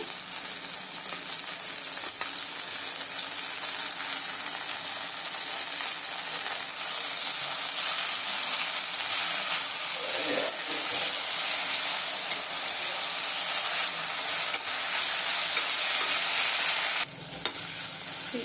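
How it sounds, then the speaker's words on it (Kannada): Fenugreek leaves frying with onion in a pan give a steady, close sizzle with a broad hiss and soft stirring scrapes that continue throughout, with no talking. "ಚೆನ್ನಾಗಿ ಮೆಂತ್ಯ ಸೊಪ್ಪು ಫ್ರೈ ಆಗಿದೆ"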